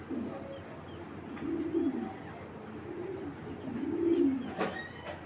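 A pigeon coos in low, soft rolling phrases, two clear coos a couple of seconds apart with faint background noise and a brief sharper sound near the end.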